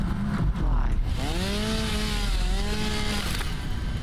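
A chainsaw in the video game Satisfactory revs continuously with a rising and falling engine whine, loud and close, while a voice talks over it.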